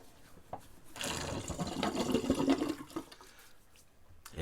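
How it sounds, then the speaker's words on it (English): Water drains out of a shaving sink, a gurgling, rushing wash that swells for about two seconds and then fades, close and fairly loud with no talk. "I'm actually going to drain the old Sea Monster sink because it's looking fuzzy."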